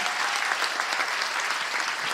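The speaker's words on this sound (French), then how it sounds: "Bonne main d'applaudissements encore, s'il vous plaît, pour tous nos diplômés." A crowd at a 2022 university graduation ceremony in Gatineau gives loud, sustained applause for the graduates, a thick, steady roar of clapping from start to finish.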